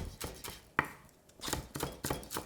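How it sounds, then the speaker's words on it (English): A knife finely chops chili on a cutting board, with a string of crisp, close taps in uneven bursts, one sharper knock standing out among them. "Chili, also finely chopped."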